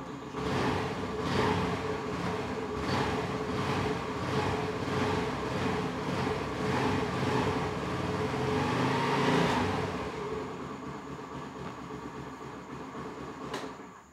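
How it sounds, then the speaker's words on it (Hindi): A Honda Activa scooter engine cold-starts and revs with a steady, pulsing drone that stays loud for about ten seconds, then drops to a lower idle with no talking. "ये इसका कोल्ड स्टार्ट है थोड़ा सा रेव कर देता हूँ इसको"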